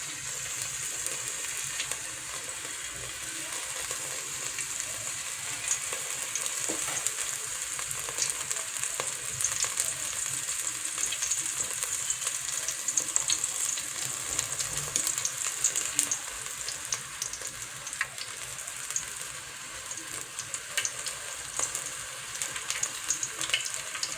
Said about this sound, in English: It is time to fry them. You put oil.